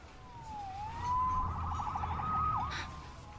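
Police siren in the Spider-Man PS4 video game, a wailing tone that rises and falls, then breaks into rapid yelping pulses, moderately loud over a low background rumble.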